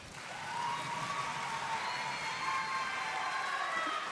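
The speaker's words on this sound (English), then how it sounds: "Graduates, give yourselves a round of applause." A graduation audience applauding, dense sustained clapping and cheering from a large crowd that swells in the first half second and then holds steady, heard at a distance.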